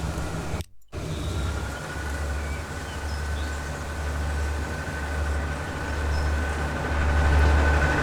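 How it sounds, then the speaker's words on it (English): A train in the video game Transport Fever 2 rolls past with a steady, loud low rumble and hum that swells gently toward the end, after a brief dropout near the start. "That train about to pass."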